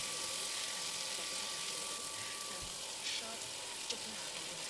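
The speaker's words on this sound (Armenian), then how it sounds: "Մի հատ էլ խառնեմ ու բրինձը ավելացնեմ։" Soaked raisins frying in a pan as they are stirred before basmati rice goes in: a faint, even sizzle runs throughout, with a couple of brief soft scrapes or clinks from the stirring.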